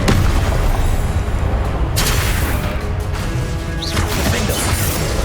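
Incendio fire spell cast during combat in Hogwarts Legacy, a loud dense burst of booming, crashing blasts filling the whole stretch, with a sharp whoosh near the end and continuous game effects throughout.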